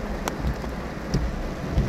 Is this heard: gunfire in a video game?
no